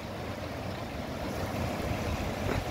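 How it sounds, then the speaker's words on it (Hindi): Canal water flows steadily into an old Kashmiri grits mill, a continuous rushing wash that stays loud and even throughout with no voices. "ये देख लीजिए पानी किस तरीके से आ रहा है इसमें नहर में से"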